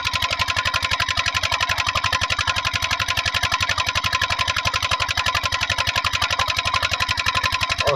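A diesel engine drives an irrigation water pump in a wheat field, chugging with a rapid, steady, even beat that stays loud and unchanged throughout, with no voices.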